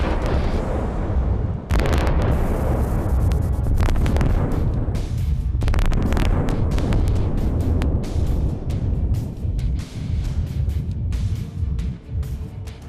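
An atomic bomb blast over Nagasaki is rendered as a huge, continuous roaring rumble with sharp cracking bursts and a buffeting, wind-like rush, loud and sustained throughout.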